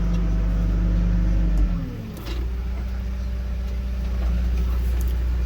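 Vehicle engine running in gear and revving while pushing, a loud steady low drone that dips and shifts pitch midway, then settles back into a constant rumble.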